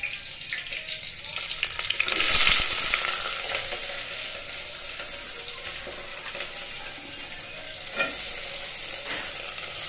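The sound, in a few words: onions frying and being stirred in a pan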